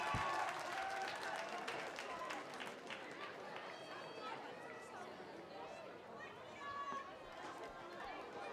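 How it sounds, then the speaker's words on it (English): Spectators at an open track and field meeting clap and cheer in a sustained burst of applause, with crowd chatter and voices mixed throughout. "Can we give him a round of applause?"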